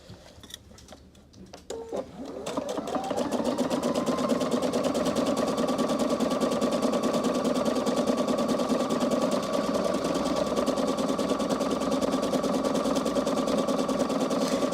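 A sewing machine stitches a decorative stitch on fabric backed with interfacing, its motor starting after a short pause and running for a long, steady stretch at close range with a rapid, even needle rhythm, no talking.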